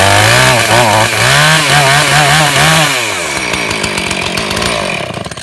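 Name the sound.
Husqvarna 450 Rancher chainsaw starting and running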